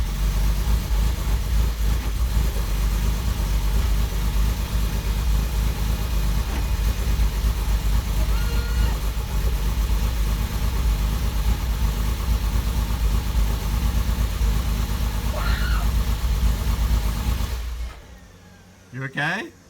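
Rebuilt Porsche 911 Carrera M96 engine idling at its first start, a steady loud rumble with a slightly truck-like note that runs close and even before cutting off near the end, with a voice briefly heard over it.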